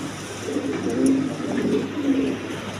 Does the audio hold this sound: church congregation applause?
no